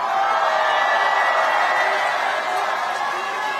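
A crowd at an outdoor political election rally in Ulsan roars with steady applause and cheering, a dense, loud wash of clapping and voices that holds evenly throughout.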